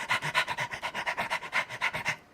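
A person imitates panting dogs with fast, rhythmic huffing breaths, about eight per second, close and steady for two seconds before stopping abruptly.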